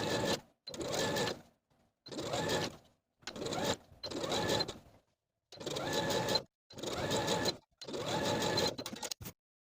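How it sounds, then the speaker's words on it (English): A sewing machine runs a narrow zigzag topstitch around a knit raglan tee neckline in about eight steady bursts, each roughly a second long, with brief pauses between them. "I'm going to use a narrow zigzag stitch to do this all the way around"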